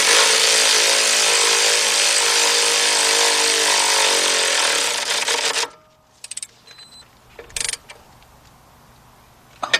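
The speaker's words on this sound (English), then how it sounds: "we're going to switch back over to our 17mm deep 3/8 drive. And we're going to go ahead, we're going to tighten this one up." Power tool buzzing loudly and steadily for about five seconds on a 17mm deep 3/8-drive socket, tightening an upper control arm bolt on a 2007–2017 Lexus LS460, then stopping, followed by faint clicks and clanks.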